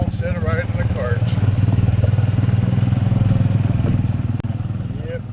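A farm utility vehicle's small engine chugs nearby with a steady pulsing drone and some clatter as it arrives, while people talk over it.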